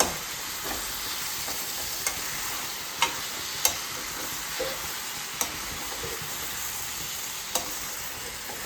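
Food frying in a pan gives a steady, close sizzle throughout, with a few sharp clicks of a spatula or spoon against the pan and no talking.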